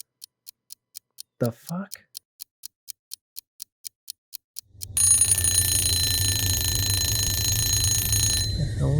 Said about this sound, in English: It's a timer comically shaped like a tomato.